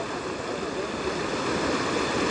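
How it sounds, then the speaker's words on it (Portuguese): Water from the São Francisco river transposition canal arriving at the Castanhão reservoir, a steady, loud broadband rush of flowing water filling the whole stretch without pause. "A chegada das águas."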